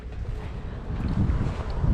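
Wind gusts buffet the microphone in a steady, rough rush that swells louder toward the end, with no voices, at a foggy hilltop viewpoint.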